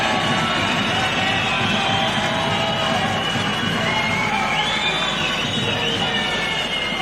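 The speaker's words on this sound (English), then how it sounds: "Let's clap for the members of parliament" A large ceremonial audience applauds members of parliament during the presidential assent to Zambia's Constitution Amendment Bill 7. The clapping and crowd noise form a dense, loud, continuous roar that holds evenly throughout.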